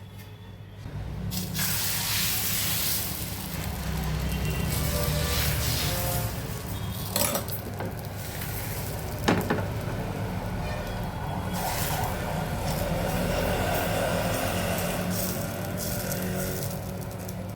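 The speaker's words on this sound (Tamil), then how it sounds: "தோசைக்கல்லை ஊற்றி நல்லா தண்ணியாக ஊற்றுங்க." Thin batter poured and spread onto a hot dosa griddle, with no oil added, gives a steady hissing sizzle that runs close and continuous throughout, joined by a few brief clatters.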